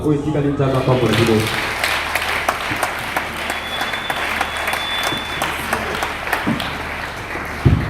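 A church congregation applauds for several seconds, steady dense clapping with some voices and music underneath, fading slightly toward the end.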